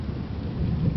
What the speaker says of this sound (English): it is thunderstorming today